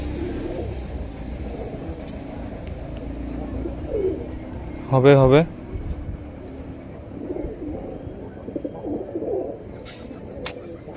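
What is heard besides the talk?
pigeon cooing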